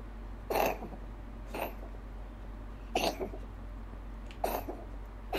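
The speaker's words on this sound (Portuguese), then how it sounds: "Esse é aquele meme do bebê que tosse no microfone?" The baby-coughing-into-a-microphone meme sound plays in the HelloKitty.EXE video game: four separate, raspy coughs spaced about a second or more apart, close and distorted, over a steady low hum.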